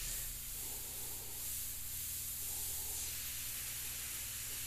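An airbrush sprays paint through a skull stencil onto artwork, producing a steady, close, soft hiss with slight pulses as the trigger is worked, heard alone without speech.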